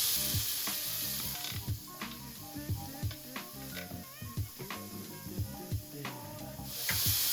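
Shoarma meat sears in a hot pan with a steady, close sizzle and bursts of crackling, broken by irregular spits and pops and a few knocks of the pan.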